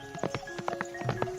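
A farm horse running off, its hooves clip-clopping in a quick run of distinct beats over a faint tonal background.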